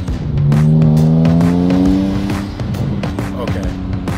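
A Ferrari Enzo pulls away, its engine note rising loud and close as it accelerates, then settling while the tires and surroundings add clicks; voices speak over it.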